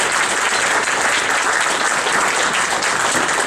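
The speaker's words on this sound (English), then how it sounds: "let's have a round of applause" An audience at a legislative update meeting giving a round of applause: loud, continuous, dense clapping that fills the whole stretch evenly with no break.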